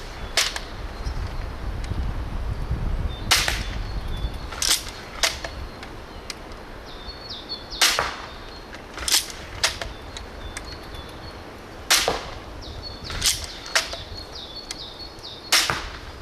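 Shots from an Adder fired at a target ring out one at a time at irregular intervals, each a sharp, snappy crack with a faint metallic ring, separated by quiet stretches of low background noise.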